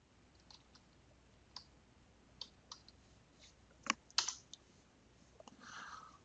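Typing on a computer keyboard to enter a search string into a text filter box, with sparse, faint, close key clicks in short bursts over a quiet background.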